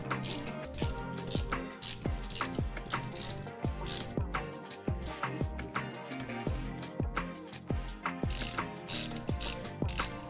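Screw being tightened during assembly of a Formbot Voron V0.2 3D printer, giving a steady series of close, crisp ratcheting clicks in a regular rhythm that continues throughout.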